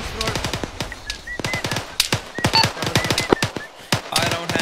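Rapid bursts of automatic gunfire in an Arma 3 infantry battle, sharp cracks repeating in quick clusters with some shots close and loud, others farther off, with no talk.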